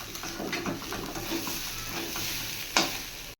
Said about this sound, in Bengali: চালটা খুব সুন্দর ভাজা হয়ে গেছিলো